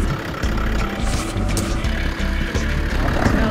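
An off-road recovery vehicle maneuvers to turn around on a steep hill descent, its engine rumbling low and steady throughout with faint mechanical clatter, no talking.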